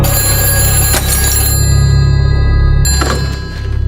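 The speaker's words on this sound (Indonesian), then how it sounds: "Saat Susana mengangkat telepon, dia kaget karena si penelepon adalah Eva" A telephone rings loudly and close, two bursts of bright metallic bell ringing separated by a short pause over a low steady hum.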